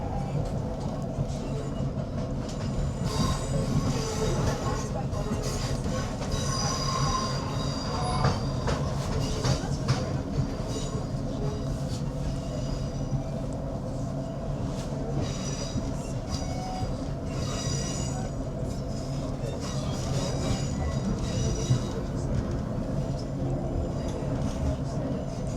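A ScotRail Class 156 diesel train crossing the River Clyde into Glasgow Central station, heard from inside: a steady rumbling roll with clicking wheels over rail joints and recurring high squeals from the wheels throughout.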